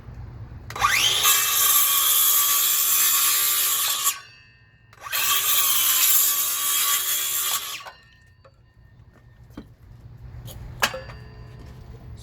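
A DeWalt DCV581H cordless wet-dry vacuum picks up sawdust in two loud, close bursts of about three seconds each, a whining motor roar that starts and stops abruptly, followed by quiet with a few light clicks.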